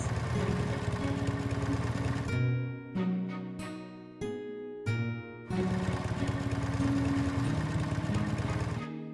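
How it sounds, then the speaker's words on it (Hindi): Small motorbike engine idling and running close by, a steady buzzing drone that briefly drops and stutters in the middle before resuming its constant hum, with no speech. "तुरंत उसके बाइक में चढ़कर दोनों लोग पुलिस स्टेशन में जाते हैं।"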